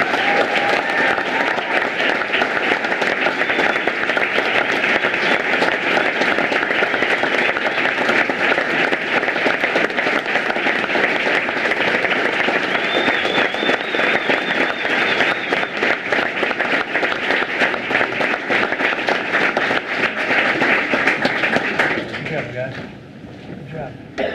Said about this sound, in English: Give a collective round of applause for these students.